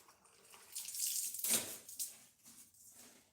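Water runs from a tap into a sink for a second rinse, a soft splashing rush that swells and ebbs over a few seconds, faint and close with no talking.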